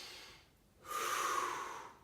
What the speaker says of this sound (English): Let's do some deep breathing here.